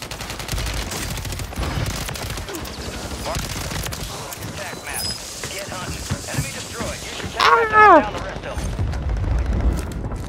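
STG 44 rifle fire on Rebirth Island in Call of Duty crackles in scattered bursts and distant volleys under a speaking voice, with a louder flurry near the end.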